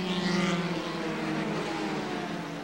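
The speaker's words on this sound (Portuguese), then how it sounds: "Brundle consegue a ultrapassagem, o mesmo acontecendo com Ayrton. Eles estão na chicane de entrada da reta." Formula 3 race cars from 1983 battling through a chicane, a sustained engine drone that rises and then eases as the cars pass, heard at a moderate distance under a steady broadband roar.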